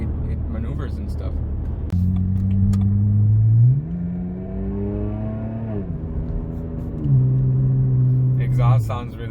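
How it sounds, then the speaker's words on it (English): Exhaust of an older BMW car on the road, rising and falling through gear changes with a clear climbing engine note, recorded from inside, loud and close, with a short voice at the end. "Exhaust sounds really good."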